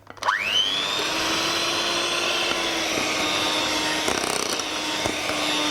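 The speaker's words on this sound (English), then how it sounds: "I'm going to add a little bit at a time while I whisk" An electric whisk whirs up to speed and then hums at a steady, loud pitch while beating sweet potato cake batter, with a few faint knocks against the bowl.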